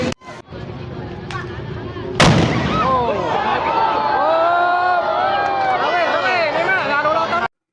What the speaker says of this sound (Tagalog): Buga number 6 ng barangay David. Ready to fire, engine number six.